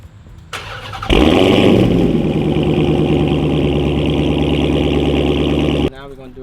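A 2022 wide-body Dodge Charger Hellcat with a Corsa Extreme exhaust fires up loudly after a short quiet lead-in, then settles into a deep, steady, close idle for about five seconds before cutting off.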